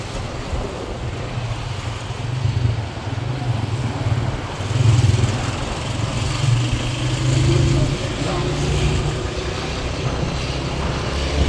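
A motorcycle rides through the city streets of Kampala, Uganda, its engine giving a steady, fairly loud low drone that swells and eases slightly, with wind and road noise throughout.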